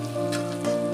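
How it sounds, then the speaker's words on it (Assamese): Drumstick pods (moringa) frying in oil in a home kitchen pan, giving a steady, close crackling sizzle with no talk. "অলপ টাইম ভাজিম ছজনাকেইডাল"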